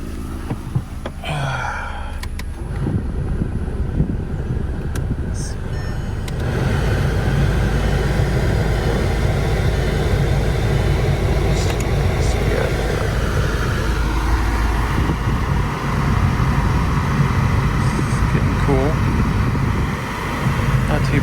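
Air conditioning blowing in a 2005 VW GTI 1.8t, a steady broadband fan-and-blower whoosh that rises around a few seconds in and holds, with engine hum beneath and brief talk near the start.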